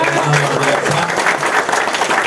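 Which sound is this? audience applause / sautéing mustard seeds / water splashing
audience applause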